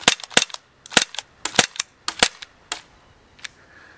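An ASG CZ75 P-07 Duty CO2 airsoft pistol fires a rapid string of sharp, loud pops close by, some in quick pairs, then slows to a few scattered shots with the CO2 running low.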